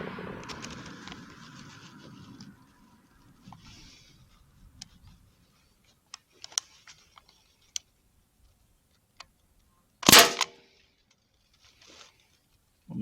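A customized Crosman 1077 air rifle fires: scattered sharp ticks and clicks, then one loud close crack, with a soft rustle early on and little else around it.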